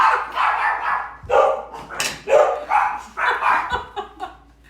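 Several dogs bark loudly and repeatedly in uneven bursts, close by, with yips mixed in and no talking.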